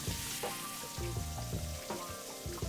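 A cod fillet, skin side down, fries in hot oil in a pan with a steady close sizzle and crackle and a few soft knocks and shifts of the pan.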